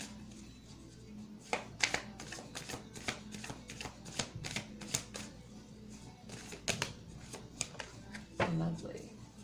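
Tarot cards being shuffled for a reading: a steady run of crisp, irregular riffling snaps and flutters close to the mic, with a louder burst near the end, over a low background hum.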